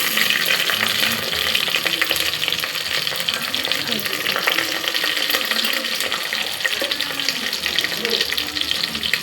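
Spices and ginger garlic paste fry in an oiled pan, giving a steady, close, dense sizzle and crackle that carries on without a break.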